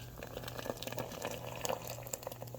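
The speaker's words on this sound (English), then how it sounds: "we're gonna go ahead and pour in" Yeast and water being poured into a bowl for homemade vegetarian pizza dough: a soft, close trickle and splash with small irregular drips, fairly quiet.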